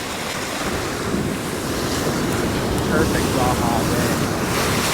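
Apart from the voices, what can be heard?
gentle ocean waves on a calm Baja beach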